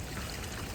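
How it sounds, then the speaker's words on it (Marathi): Water pouring and splashing at a small waterfall on a mountain trek while someone washes their face, a close continuous rushing gush. "आणि जरा तोंड धुतो आता"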